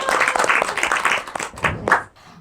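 Audience applause at a special anniversary event at an Islamic boarding school, a short burst of dense clapping from a crowd that thins out and stops after about two seconds.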